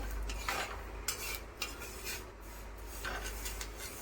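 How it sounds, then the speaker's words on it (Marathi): Flaxseeds are dry-roasted on an iron griddle over a low flame, with repeated scraping and rustling strokes as the seeds are stirred and pushed around, close and moderately quiet with no voices. "बारीक गॅसवरतीच आपण 5 मिनिटं भाजून घ्यायचं लालसर होईपर्यंत"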